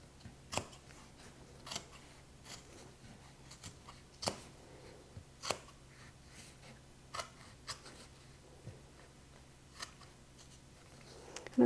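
Scissors snip through fabric for a crossbody bag with a zipper overlay, giving a dozen or so crisp, quiet cuts at irregular intervals, close up, in an otherwise quiet room.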